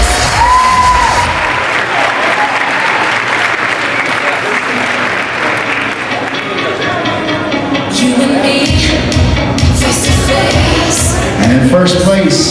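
An audience at a bodybuilding show applauds loudly and continuously, a dense wash of clapping with occasional shouts and whoops, swelling again toward the end.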